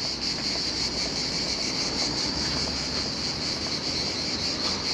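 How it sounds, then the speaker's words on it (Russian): Cicadas chirr steadily in a southern Russian seaside town, a loud continuous buzzing drone that runs unbroken from start to finish with no voices. "Цикады, цикады."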